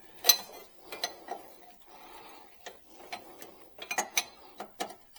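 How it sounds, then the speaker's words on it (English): Close metallic clicks and ratcheting from a wrench working the idler arm nut on a GMC truck's steering linkage, in short irregular bursts with quiet pauses between. "I have to use the open end wrench to hold the nut in place"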